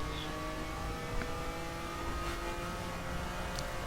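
Lamborghini Miura SV engine in the racing game The Crew, a steady mid-pitched drone with faint shifts in pitch as it downshifts, heard alone with no talk.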